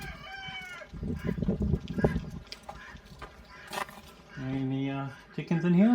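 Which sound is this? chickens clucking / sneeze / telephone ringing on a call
chickens clucking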